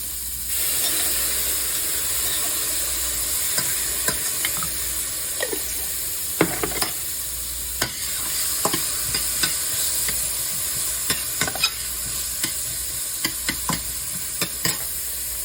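Onion and a tablespoon of minced garlic frying in a hot skillet, a steady bright sizzle throughout, broken by scattered stirring scrapes and clicks of a utensil against the pan.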